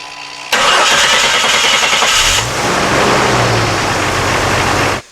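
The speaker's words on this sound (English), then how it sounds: "we'll try and fire this up and see how fast it turns over" A Jeep Grand Cherokee WK2 cranks briefly on jump-starter boost, then fires and settles into a steady, loud idle that carries close to the end.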